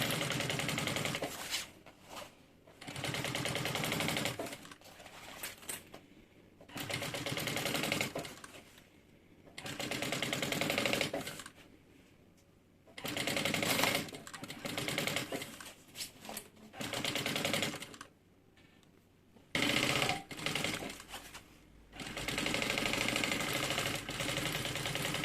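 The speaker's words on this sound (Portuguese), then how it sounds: "Faz uma costura aqui, ó, bem na beiradinha, só para segurar esse forro." Domestic sewing machine stitching a bag lining close along its edge, running in repeated bursts of rapid mechanical whirring and clatter separated by brief pauses, close and fairly loud.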